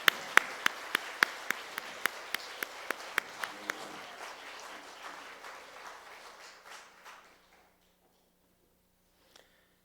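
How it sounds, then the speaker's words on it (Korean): A church congregation applauds for elders stepping up at a retirement and installation service. Sharp, evenly spaced claps from one nearby person sound over softer general clapping, which dies away by about seven seconds, leaving near silence. "저기 등단할 때 우리 박수 힘차게 해주십시오."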